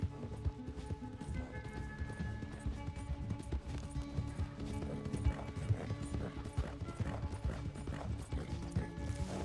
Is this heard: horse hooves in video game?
yes